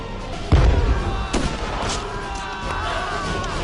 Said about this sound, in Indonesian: Cuka terkena tembakan dari pasukan Jerman